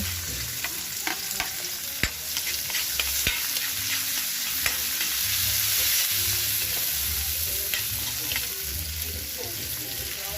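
Onion and garlic sizzling in a pan at a lakeside camp, a steady close frying hiss broken by clinks and scrapes of stirring.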